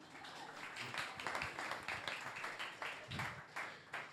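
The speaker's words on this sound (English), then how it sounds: "You guys can clap." Faint, distant clapping from an audience at a startup pitch event, a continuous patter of many hands sounding thin and far away, with some low background noise underneath.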